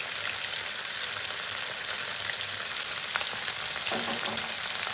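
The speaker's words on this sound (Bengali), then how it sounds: "এটাকে আমি আজকে কষে নেবো যেটা আবার এই কাঁচা গন্ধটা চলে যায়" Shredded cabbage with ginger paste fries in a hot pan, a steady close sizzle and crackle running throughout with a few faint scrapes near the end.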